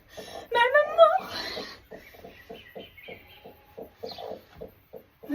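Hens cluck in a henhouse while someone reaches in to collect eggs. A short burst of talk comes first, then a steady run of close, rhythmic clucks.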